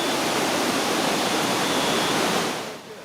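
Pailón del Diablo, the Devil's Cauldron waterfall on the Rio Pastaza in Ecuador, roaring at night as a loud, unbroken wash of rushing water that fills the whole clip and eases slightly near the end.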